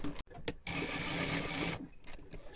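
A sewing machine runs a short seam of about 3 cm through a tailored wool coat, a steady close whir lasting just over a second, framed by small handling clicks and thumps.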